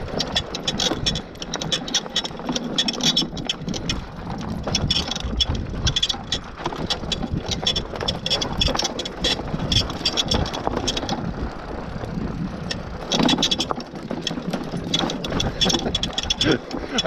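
A Puckipuppy Labrador Pro e-bike rides single track on its lowest power level, with continuous rough rumbling of tyres over dirt and steady wind buffeting the microphone, no talking.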